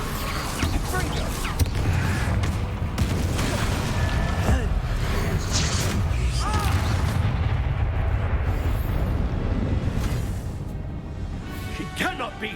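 Confringo fire spell blasts in the game Hogwarts Legacy, a dense stretch of loud booming explosive bursts and crackling impacts in a chaotic battle, with a voice talking over it.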